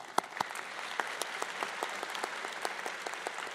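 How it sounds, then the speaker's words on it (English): A conference audience applauding panelists at a leaders' dialogue on sustainable economic development, fairly sparse, distinct individual claps at moderate distance, quiet and without talk. "please, a round of applause for all our panelists here"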